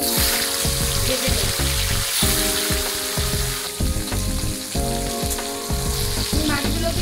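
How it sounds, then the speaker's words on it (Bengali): Hilsa fish pieces sizzle steadily in hot mustard oil in a wok, a dense continuous frying crackle running the whole time beneath steady background music, with no talking. "দেখুন আমি হালকা করে ইলিশ মাছগুলোকে ভেজে নিয়েছি"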